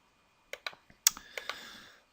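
Laptop keys click in a quick handful of sharp, close taps followed by a brief rattling clatter, quiet and isolated with no talking.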